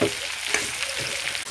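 Vegetables and ginger frying in a pan, a steady, bright sizzle throughout with a faint stirring knock midway, close and continuous with no voices.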